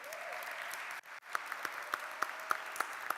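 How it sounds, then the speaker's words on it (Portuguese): Audience in a Sunday church worship service clapping together for a few seconds, a soft steady patter broken by a short pause, then a few sharper claps. "Uma salva de palmas."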